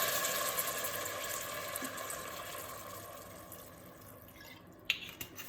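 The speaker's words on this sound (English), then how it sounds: "So a little glug of wine's gone in there." Wine glugs into a pot of slow-cooked bolognese ragu, a soft continuous liquid pour at close range that ends in a few small splashes.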